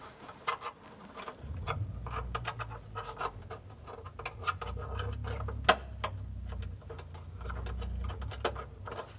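A ratchet with a 10 mm socket clicks in quick, faint bursts as it snugs a horn bolt on a 2011-2019 Ford Explorer, close up against a low background hum.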